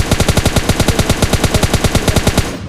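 M4 rifle firing in a battle royale shooter game, a rapid, evenly spaced burst of about twenty loud automatic shots ending abruptly, with no talk.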